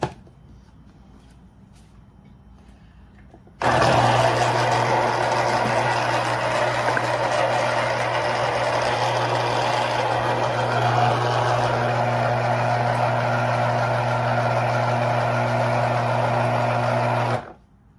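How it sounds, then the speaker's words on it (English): A loud, steady motorized whir with a low hum starts abruptly, runs continuously for about fourteen seconds, then cuts off. "Love my little juicer."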